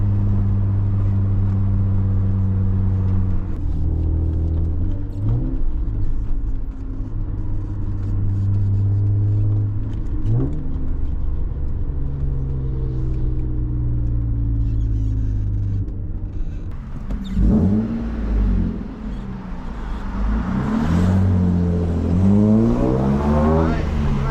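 A BMW E34 520i Touring drives through city streets, its engine note climbing again and again through the gears in repeated revving pulls, loud and close from inside the car.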